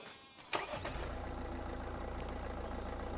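A Skoda Octavia engine starts up in a farming simulator game: a quick cranking burst, then the engine catches and settles into a steady, close idle hum with no talking.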